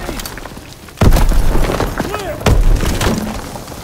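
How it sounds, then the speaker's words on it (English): Grenade blast in the Call of Duty WWII game, two heavy booming thumps about a second and a half apart, loud and broadband, with game music and battle noise underneath. "Lobbing a grenade!"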